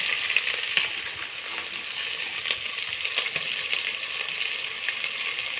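Grated coconut frying with garlic paste in a hot pan while being stirred, a steady bright sizzle with faint scraping strokes, close and even, with no talking.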